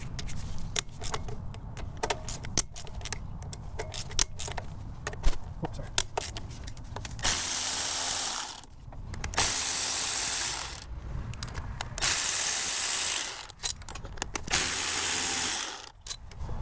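A ratchet loosens the 12 mm nuts and bolts on a car's throttle body, clicking in rapid bursts of strokes with short pauses between, close and clear alongside faint workshop clatter.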